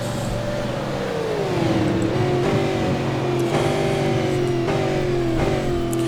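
Supercar engines in the iRacing sim race down the Oran Park straight, a loud continuous engine drone with a pitch that sweeps down and then holds steady, several cars layered together at close range.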